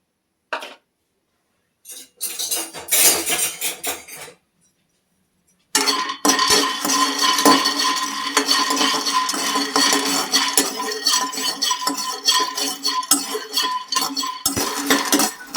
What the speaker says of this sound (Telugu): ముందుగా వేరుశనగ పప్పులు వేయించుకున్నాం.